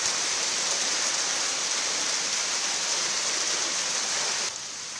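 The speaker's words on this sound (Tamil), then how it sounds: "ஆலங்கட்டிகளுடன் பெய்த கனமழையால் நகரில் இருள் சூழ்ந்தது" Heavy rain with hailstones falling in Bengaluru, a dense, steady hiss of downpour that stays loud and uniform before easing slightly near the end.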